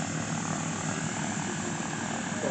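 A propeller-driven warplane originally built for the British flies over an air show at an air power museum, a steady, loud droning engine roar that fills the clip without pause, with no voices.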